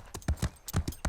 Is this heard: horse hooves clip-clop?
yes